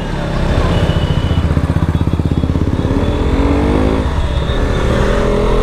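A KTM RC 125 sport motorcycle with a 125cc single-cylinder engine runs close by, its loud, rapid pulsing idle rising briefly in a rev before settling back, with no talking over it.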